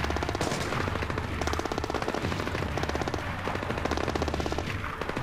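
Sustained automatic gunfire in the Splinter Cell Blacklist video game, rapid loud bursts hammering almost continuously with heavy low-end booms beneath them.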